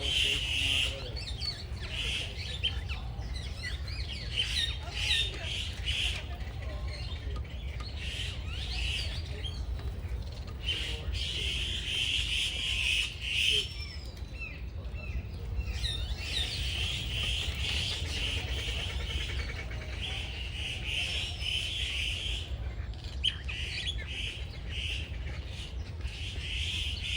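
Birds at a safari park give scattered squawks and chirps over a steady low rumble of ambient noise, moderately distant and continuing throughout.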